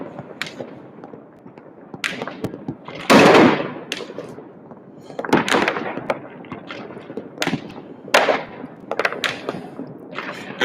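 New Year's Eve fireworks in Tbilisi burst and crack in irregular bursts. Sharp bangs and pops arrive at varying distances, some loud and near and others duller and farther off.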